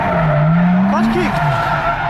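Drift car tires skid and squeal during a clutch kick, a loud sliding tone rising and bending over steady engine roar, with voices shouting over it.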